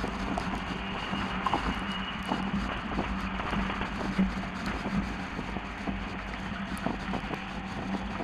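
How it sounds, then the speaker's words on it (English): Wind buffets the microphone while riding a bicycle that tows a trailer into a headwind, a constant rough roar with irregular gusty thumps throughout. "I'm riding into the wind right now"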